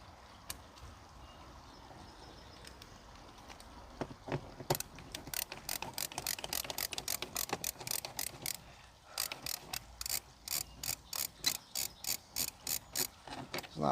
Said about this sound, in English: Now there's a Phillips head, and this is where the ratcheting screwdriver comes in handy.